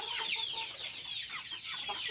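Local chickens cluck and chicks peep in a farmyard, a run of soft, quick calls fairly faint and unbroken by any talking.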